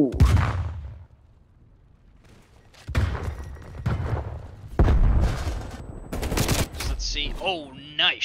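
Bursts of gunfire from a competitive shooter video game match, several sharp volleys and single shots spread across the moment, loud and close, with stretches of quieter background and a short electronic tone near the end.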